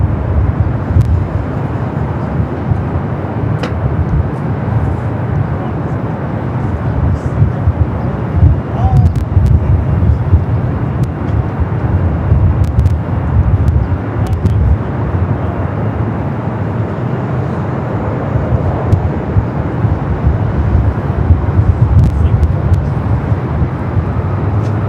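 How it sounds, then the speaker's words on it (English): An Air Canada Airbus A220-300 in retro livery at LAX gives a loud, low, steady jet roar, mixed with wind buffeting on the microphone and occasional clicks. "we got that retro Airbus A220-300 Air Canada"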